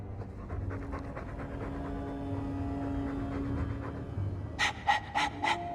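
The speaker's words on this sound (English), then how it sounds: "All that noisy dog breath" A dog pants in the Dragon Age 2 video game, a quick rhythmic series of breathy huffs over quiet ambient background music, ending with several louder, closer pants.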